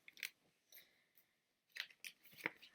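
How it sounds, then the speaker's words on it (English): Paper rustling and shuffling as a planner is handled: soft, close, intermittent crinkles and flicks in short bursts separated by near-silence. "I'm sorry if you hear papers shuffling in the background."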